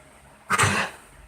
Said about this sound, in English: Oh, she's coughing again.